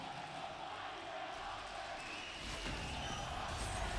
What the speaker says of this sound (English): The crowd once more.